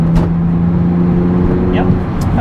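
Interior engine drone of a Porsche 911 996 driving in a low gear, a steady loud hum with a faint squeak or two, no talking.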